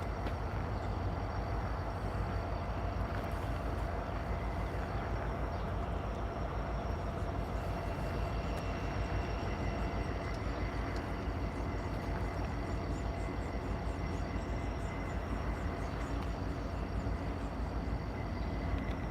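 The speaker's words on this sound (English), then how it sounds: "So our SD70 ACE with auto racks holding to our right while he awakes from the left" A Norfolk Southern freight train with auto racks rumbles past close by at Ottawa, a steady heavy roar with rattling cars and squealing wheels that continues without letup from start to finish.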